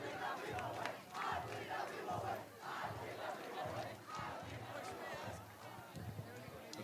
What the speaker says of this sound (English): This crowd's starting to really get going